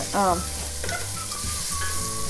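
Finely chopped onions hit hot oil in a pan for an aloo mutter potato-pea curry, giving a loud sudden sizzle that settles into a steady frying hiss with some stirring clatter.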